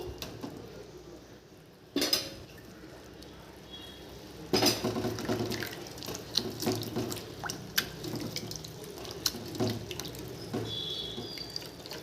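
Spinach greens rinsed under a running kitchen tap, with close splashing water that surges on around two seconds and again more strongly after four and a half, plus light clinks of a bowl or utensils between bursts.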